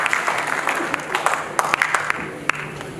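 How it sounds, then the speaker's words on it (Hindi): Applause from the audience at a live political gathering in India: a steady wash of many hands clapping, loud and sustained across the whole stretch with a few sharper claps standing out. "एक जोरदार ताली बजाएं"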